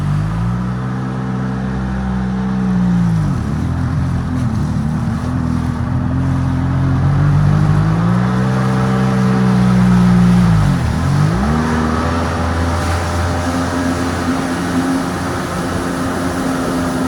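A Kawasaki ZXI 900 jet ski engine, just freed from being stuck, runs loud and close, rising and falling through repeated revs with dips back toward idle, a droning roar over the water throughout.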